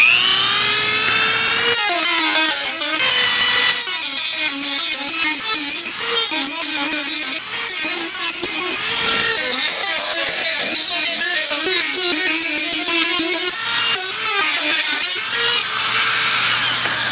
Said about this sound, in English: I would try my Dremel with a little cutting wheel and see if that would work to cut this aluminum